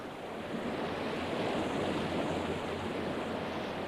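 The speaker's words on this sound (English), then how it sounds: "a mighty waterfall tumbled out of the darkness above with a loud roar" Steady, dense rushing water roars continuously like a powerful falling torrent, broad and unbroken throughout, with no voices.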